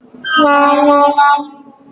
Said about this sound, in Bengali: তো ট্রেন ঢুকে গেছে